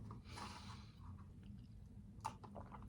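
Close, soft chewing and munching on a snack, with wet squishy bites and small crunchy clicks repeating irregularly; no talking.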